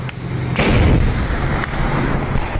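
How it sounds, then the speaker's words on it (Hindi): Heavy gunfire and booming artillery from street fighting in the city of Shusha, loud and continuous, with a sharp blast near the start and further cracks rolling through a dense battle din. "गोलीबारी हो रही है।"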